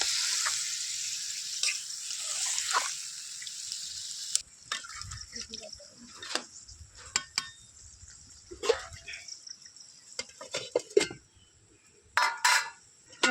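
Pumpkin greens and katla fish head curry frying in a pan, with a steady sizzle at first, then quieter stretches broken by scattered clinks and scrapes of stirring utensils against the pan.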